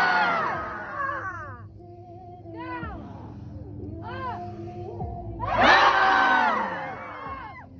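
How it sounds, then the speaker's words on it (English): People at an emotional-release retreat scream together in long, wavering wails and shrieks that rise and fall in overlapping bursts, peaking in a loud group outcry near the end. "So this is a screaming."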